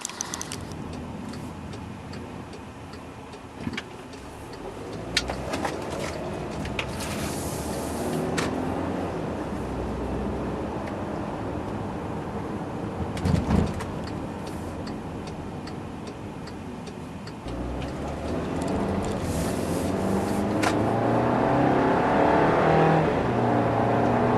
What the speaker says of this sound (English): we'll go ahead and go for a quick test drive